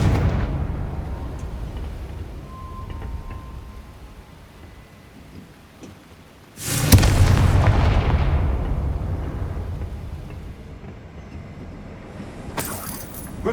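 A Confringo blasting spell goes off in Hogwarts Legacy: a sudden loud explosive burst midway that decays into a rumbling tail, with a second sharper blast near the end.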